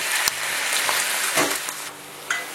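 Pinot noir wine hisses and sizzles as it hits grilled shallots in a hot pan, a steady close frying crackle with a few sharp pops.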